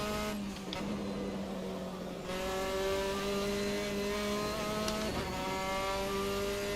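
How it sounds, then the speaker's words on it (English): A Formula 4 racing car engine in Assetto Corsa at Okayama revs steadily, its pitch holding a rising whine with harmonic layers, briefly dipping and climbing again as the wheels spin on a crest; loud and continuous, no voices. "Just hear the revs rise as the wheels spin a bit on the crest"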